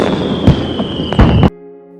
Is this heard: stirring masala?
no